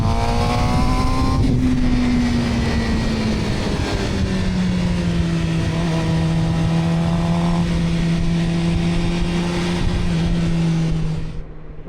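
A Suzuki GSX-R600 sport motorcycle's engine holds a steady, loud drone from a rider's-eye position, its pitch sagging and then leveling as revs ease through a bend, with continuous wind rush over it.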